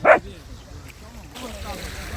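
A single loud, short dog bark up close at the start, followed by quieter rustling and faint outdoor background noise.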